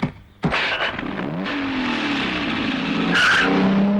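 A vehicle pulls away hard, its tyres skidding and squealing loudly over a revving engine, starting after a brief sharp sound and building steadily to a near, intense screech.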